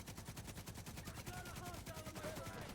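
Rapid automatic gunfire in a video game as a boss is shot, a quick, even stream of shots running throughout, with faint electronic game tones layered on top.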